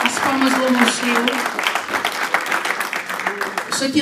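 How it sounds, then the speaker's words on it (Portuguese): Church congregation applauding in worship, a dense rattle of many hands clapping steadily beneath a prominent voice and musical tones, fairly loud and continuous for the whole stretch. "As palmas louvam o Senhor."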